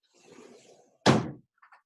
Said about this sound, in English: I'm going to go and shut the door.